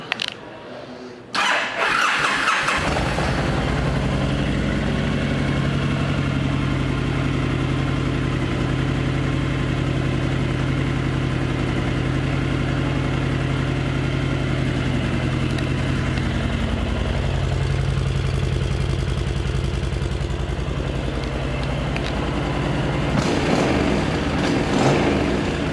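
A 2010 Honda Sabre 1300 motorcycle engine starts after a brief crank and settles into a steady, loud, close idle that runs unbroken for over twenty seconds.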